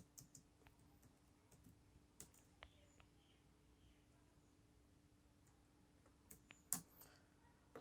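Computer keyboard typing Java code, faint scattered key clicks in sparse bursts over a quiet room hum, with a slightly louder cluster of taps near the end.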